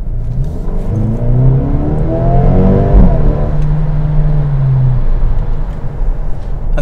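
A 2020 Mercedes-AMG CLA 35 Shooting Brake in comfort mode on a bumpy road accelerates hard, its engine note climbing loud and close, dipping at a gear change midway, then pulling on steadily; a voice utters a single word.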